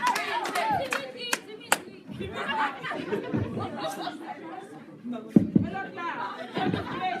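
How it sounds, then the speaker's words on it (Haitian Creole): A church congregation at a Haitian Seventh-day Adventist service claps for the Fuse group, giving scattered, uneven clapping with sharp louder claps mixed into lively chatter, laughter and talking voices. "Applaudis groupe Fuse pour nous faire bruit"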